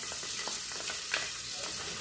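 Onion sizzling in a pan with garlic already browned, a steady soft crackling hiss with occasional small pops, fairly quiet and continuous with no talking.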